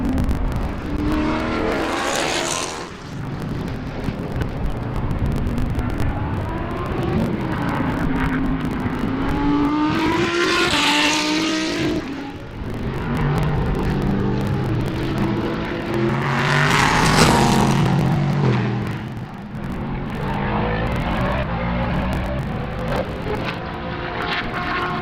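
Race cars tear past at a Sebring racing event, three loud passes that rise, peak and fade at roughly even intervals over a continuous background roar of engines, with no talking.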